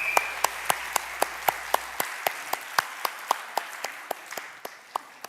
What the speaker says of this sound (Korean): 다시 한번 격려의 박수 부탁드립니다.